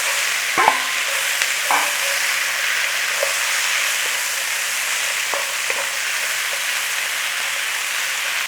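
Beef and cashews fry in a pan with sauce, giving a loud, steady sizzle with occasional clinks and scrapes of stirring.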